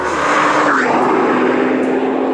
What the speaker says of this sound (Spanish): al pasar lo que se oye es un sonido clarísimo a turbina, un soplido agudo e hiperintenso